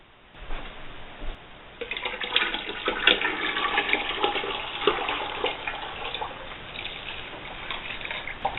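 Homemade laundry soap solution is stirred in a bucket, giving a continuous sloshing, swirling water sound at moderate level for several seconds, with no talking.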